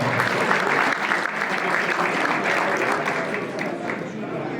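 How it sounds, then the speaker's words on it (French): An audience at a rally awards ceremony gives the co-drivers loud, sustained applause, a dense, close wall of clapping that holds steady throughout. "On peut vous applaudir bien fort."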